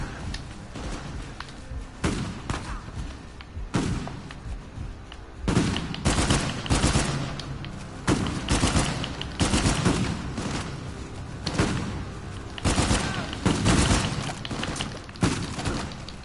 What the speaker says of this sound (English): Oh man, I hate rapid fire weapons.